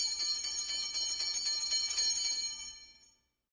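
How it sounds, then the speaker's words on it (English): An electric school bell rings loudly in a continuous rapid rattle for about three seconds, then cuts off abruptly into silence. "the school bell is ringing"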